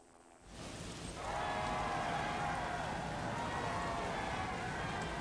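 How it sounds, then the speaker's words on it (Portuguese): Heavy rain in a Formula 1 racing video game, set at the Spain or Azerbaijan circuit, rises from quiet into a dense, steady hiss and patter that holds at an even level to the end. "E é chuva e chuva extrema."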